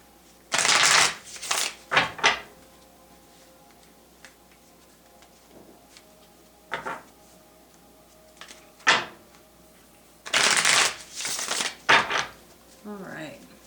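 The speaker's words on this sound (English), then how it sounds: "Two more shuffles." Tarot cards being shuffled by hand in a quiet room, with several bursts of riffling and flapping separated by pauses, close and fairly crisp, with no talking.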